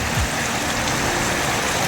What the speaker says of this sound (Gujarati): અમને ખાલી આ અડધો કલાકમાં આટલું બધું પાણી પડી ગયું છે સાંભેલા ધાર વરસાદ કહેવાય